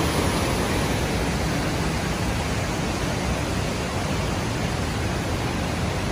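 Waterfall in Davao heard from a bridge, a loud, unbroken broadband roar of rushing water that stays constant from start to finish.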